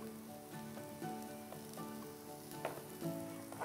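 Carrot and cabbage stir-fry in a pan as filling for veg momos, giving a steady close sizzle with a few scraping clatters along the way.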